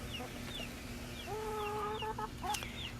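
Backyard chickens cluck close by near their coop, a run of short, rising calls over a steady, low hum of outdoor noise, with no one talking.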